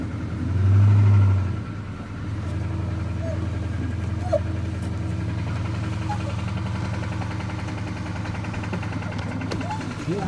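A Dodge Challenger Hemi R/T engine idles steadily with a rough, rhythmic knock from a bad rod, running with no oil pressure; a loud low hum dominates throughout, and a brief louder rev opens the sound.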